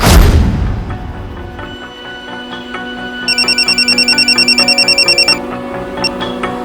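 A telephone rings in a patterned, repeating electronic trill that runs for about two seconds and then stops, with steady musical background under it.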